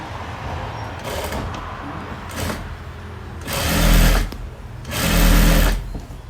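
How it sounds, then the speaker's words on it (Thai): A sewing machine stitches a fabric side seam on a Karen-style blouse, running in two loud bursts with quieter stretches of handling and faint machine hum between them. "อันนี้พับเย็บข้างอีกด้านหนึ่ง"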